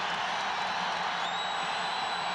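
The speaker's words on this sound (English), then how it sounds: "Listen to the crowd in Ames." Basketball crowd at Hilton Coliseum in Ames during a 1995 Iowa State game against Kansas, a loud, dense, sustained roar with a whistle-like tone rising near the end.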